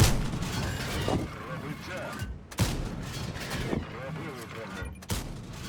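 Repeated heavy tank cannon blasts from World of Tanks combat, several sharp booms spaced a second or two apart over a steady rumbling background, with talk mixed in.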